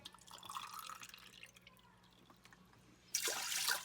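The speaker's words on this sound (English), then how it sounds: "I'm adding 10 cups of water" Ten cups of water poured into a cooking pot for squash congee: quiet dripping at first, then a sudden louder, splashing stream filling the pot near the end.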